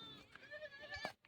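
A goat bleats in a farm setting, one drawn-out wavering call followed by a short second cry, close but fairly quiet.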